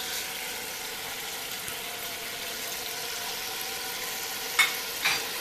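Chicken with tomatoes and spices sautés in a pan with a soft, steady sizzle. A couple of brief clinks or stirs come toward the end.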